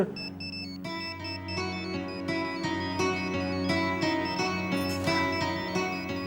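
A melodic electronic ringtone plays continuously, bright repeating tones ringing out steadily and clearly with no one speaking.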